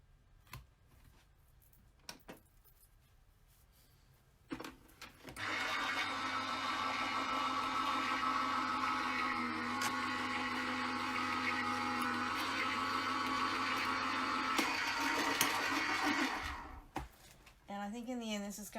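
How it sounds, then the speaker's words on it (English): A Stampin' Up! electronic die cutting machine runs with a loud, steady whirring drone for about twelve seconds. Faint ticks and quiet background sounds come before it, and it stops near the end. "my electronic die cutting machine is going to be noisy"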